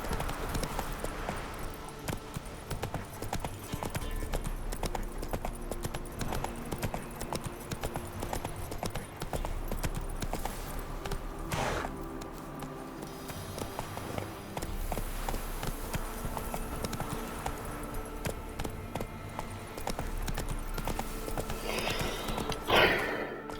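Roach the horse gallops in The Witcher 3, steady clip-clop of hooves drumming at a brisk pace over a continuous game soundscape with music and ambience for the whole stretch.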